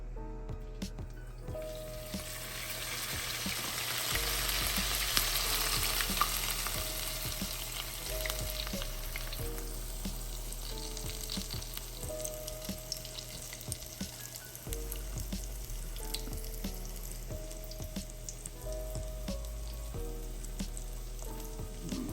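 Chicken fries in hot oil with a continuous crackling sizzle that swells early and then settles into a steady bubbling hiss over a low background hum.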